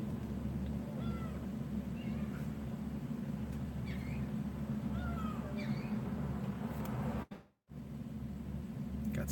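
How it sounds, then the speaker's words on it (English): Seagulls call in short, mewing cries scattered over a steady low outdoor rumble beside a railway line, the calls fairly faint and distant, with a brief dropout near the end. "Got seagulls flying around here."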